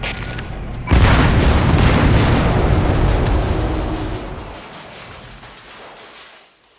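A separator tank blows up in Metal Gear Solid V: The Phantom Pain, a sudden loud blast after a low rumble, then a long roaring burn that slowly fades out with no speech.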